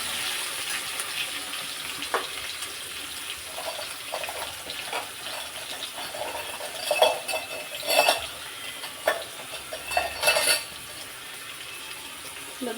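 Chopped tomatoes are stirred into potatoes and onions frying in a pan, a soft background sizzle broken by a few louder wet scraping and sloshing strokes near the end.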